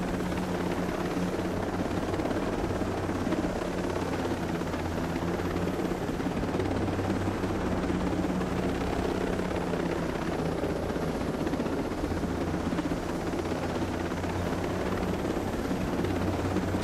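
Helicopter in the video game Ghost Recon Breakpoint, a loud, steady rotor and turbine drone that holds constant throughout with no break, nearby and alone without talk.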